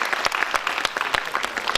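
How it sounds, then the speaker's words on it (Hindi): Audience applause at a Hindi poetry gathering (kavi sammelan) for the poets, a dense, steady stretch of clapping with sharp individual claps standing out, close and loud. "मेरे इन कवियों के लिए एक बार जोरदार ताली बजाइएगा"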